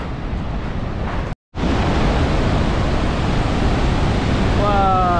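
Steady, heavy roar of a waterfall in Argentina, loud and close, filling the whole clip with a brief dropout near the start and faint whistling near the end.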